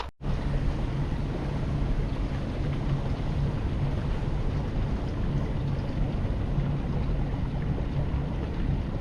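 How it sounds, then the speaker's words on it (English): Steady breeze blows outdoors on a river, buffeting a microphone on a fishing boat with a constant loud rumbling whoosh throughout, no speech. "you can probably hear the breeze blowing"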